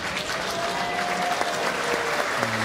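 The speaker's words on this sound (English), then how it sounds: "Just getting a little bit of a cheer there from the crowd." A crowd at the indoor bowls world championships claps and gives a brief cheer, moderate, steady applause throughout with a few louder claps standing out.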